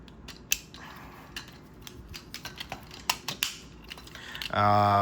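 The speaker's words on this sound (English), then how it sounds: "we'll pop off his arms, plug these together, plug them onto the back, fold these up" A plastic Tobot Heavy Metal toy is transformed by hand. Parts pop off and snap together in a series of sharp, close clicks and creaks, followed at the end by a short buzzing hum.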